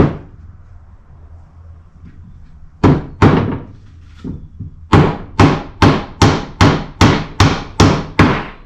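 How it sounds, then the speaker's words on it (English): A rusty nail is hammered into a wooden tissue box: a few scattered knocks, then a steady run of about ten sharp, loud blows close by, with no talking. "Put a rusty nail with the head that actually overlaps."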